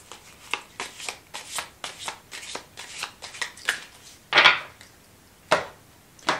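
Oracle cards being shuffled by hand, a series of crisp riffling bursts in an uneven rhythm, close and clear, with a few sharper louder flicks and no talk.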